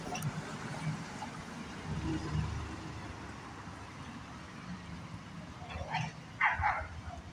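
Dog on a leash barking on Dundas Street West in Toronto near Dufferin Mall, a few short barks near the end over steady street traffic and city rumble, with someone talking.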